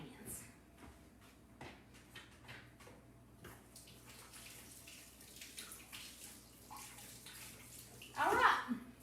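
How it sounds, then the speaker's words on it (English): Hands being washed under a running kitchen tap, faint trickling water for several seconds ending in a louder splashing burst, with speech nearby. "Let me wash my hands."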